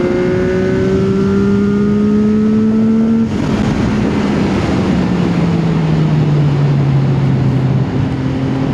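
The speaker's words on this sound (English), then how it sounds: "it doesn't really quit until it hits the rev limiter" A CFMOTO 675SS sport motorcycle accelerates hard on an empty road at night, its engine note climbing steadily in pitch, then dropping after a shift and winding down smoothly, loud and close.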